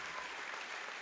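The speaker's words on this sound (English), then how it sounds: "the crowd's really showing their appreciation for what this group has accomplished" Crowd applauding graduating seniors on senior night at a 2019 3A substate high school basketball game, a steady wash of clapping filling the gym for the full second.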